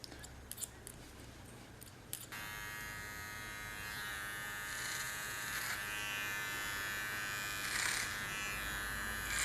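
A small hair clipper runs close up, trimming the contour of a short feminine haircut done freehand; a steady electric buzz starts after a couple of seconds of light scissor-like clicks and continues alone at even strength.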